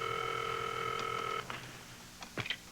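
A telephone line gives a steady dial tone. The tone cuts off and is followed by a few faint clicks and brief tones from the handset.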